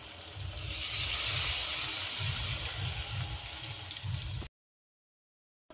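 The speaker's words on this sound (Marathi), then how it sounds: "तर घेऊ आता आपण पाणी टाकून।" Water rushes into a pot of fried chicken masala for biryani, a loud, steady broadband pouring and bubbling that runs for about four seconds, then cuts abruptly to silence.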